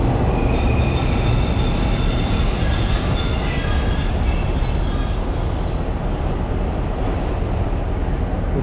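A third-class train in Thailand on the Bangkok to Nong Khai line near Khon Kaen rumbles loudly and continuously, with sustained high-pitched wheel squeal over the rolling noise; no one speaks.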